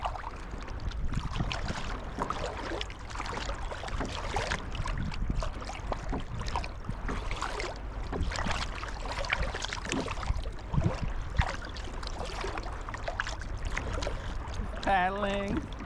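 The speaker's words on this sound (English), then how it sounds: "Paddling." A kayak paddle dips and splashes in the water off Tawas Point, East Tawas, Michigan, a faint, uneven watery lapping with wind in the background and a voice speaking near the end.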